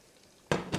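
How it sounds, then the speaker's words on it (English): Hot oil poured over garlic and chili flakes for Korean fish omelette parcels, giving two quick bursts of light sizzle close by after a moment of quiet, each fading with a soft crackle. "so it gets that light sizzle"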